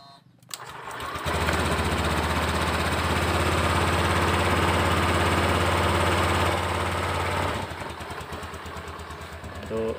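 A Honda Beat scooter engine catches after a brief crank and settles into a loud, steady idle with a buzzing hum, then drops to a softer idle near the end.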